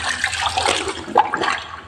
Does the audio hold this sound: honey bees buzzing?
no